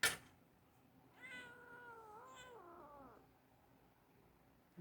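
A house cat gives one drawn-out, wavering meow in a quiet indoor room, with a short knock or tap at the start and another at the end.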